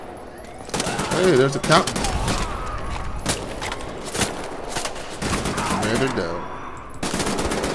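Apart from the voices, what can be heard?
gunfire in video game Wolfenstein: The New Order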